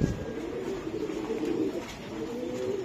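A female racing pigeon, a pedigreed bird raced in 2023, coos softly and continuously at close range on a pigeon farm, with low, rolling murmurs and no voices over it.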